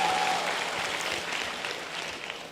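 Audience applause at a motivational speech, a steady wash of clapping that stays fairly even and slowly tapers over a couple of seconds, with no voices over it.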